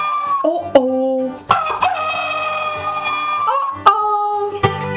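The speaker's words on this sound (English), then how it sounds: "This is a hen, a little hen." A hen clucks and crows in a farm animal recording, a run of sharp, close calls and tonal squawks with brief pauses between bursts, loud and clear with no talk over it.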